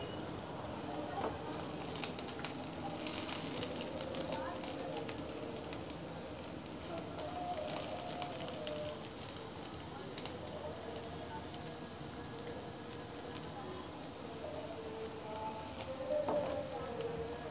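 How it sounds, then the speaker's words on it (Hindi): Three whole chillies fry in hot oil while guar phali bhujia is cooked, giving a steady, faint sizzling crackle that continues throughout with small pops. "अब मैं इसमें ये 3 साबुत मिर्चें शामिल कर रही हूँ"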